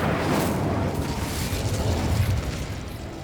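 Incendio fire spell cast in a Harry Potter video game, a loud sustained roaring whoosh of flame with dense crackling rumble that holds steady for a few seconds.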